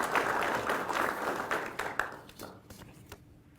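An audience applauds families and friends at a law enforcement academy graduation, moderate clapping that thins out and fades toward the end.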